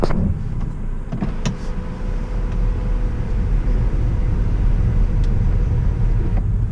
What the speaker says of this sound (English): I can close just my part of the sunroof, and I can even close the one behind.